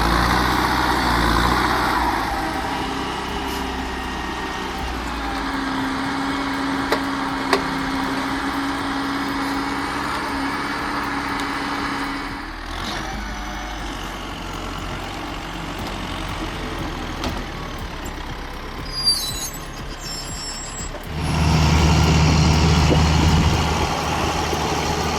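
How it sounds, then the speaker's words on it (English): An LKT Turbo 81 skidder's engine labours while dragging massive logs through sticky mud and slippery snow, a continuous loud diesel drone that shifts in pitch and load, swelling again near the end. "The LKT Turbo 81 is dragging massive logs through slippery snow and sticky mud."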